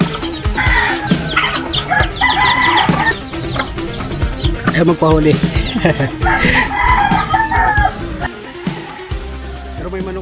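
Chickens cluck and squawk close by amid scuffling and rustling, while a person speaks briefly over the commotion.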